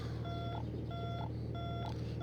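Landing gear warning alarm in an SF260D flight simulator: a bright electronic tone sounds three times at a steady pace over a constant low cockpit engine hum.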